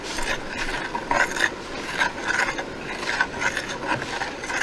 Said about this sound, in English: I have to plug in our electric mixer